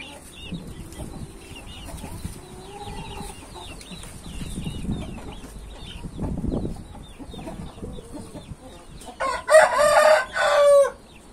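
A rooster clucks quietly at close range amid light background noise, then lets out a loud crow near the end.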